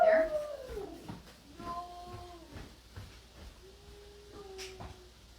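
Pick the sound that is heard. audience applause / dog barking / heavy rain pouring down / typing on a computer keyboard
dog barking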